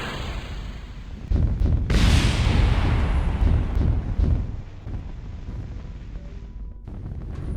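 Video game tank lands near fuel tanks on the Mun in Kerbal Space Program, followed by a loud, sustained rumble of explosions that swells suddenly, then settles into a lingering roar under wind-like noise.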